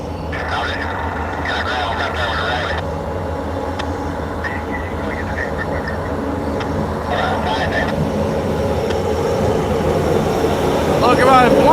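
A westbound Norfolk Southern train approaches at the DeButts Classification Yard, its rumble building steadily louder with horn-like tones rising near the end. Someone talks over it.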